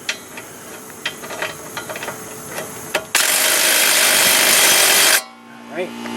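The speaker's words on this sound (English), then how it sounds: "I'm going to try to do this with the impact" A pneumatic impact wrench runs down the fasteners on rear air shocks of a 2001 Buick LeSabre, sounding as one loud, steady two-second burst after a stretch of clanking tool handling, then cutting off to a quieter hum.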